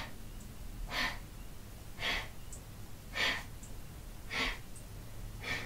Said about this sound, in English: short breaths.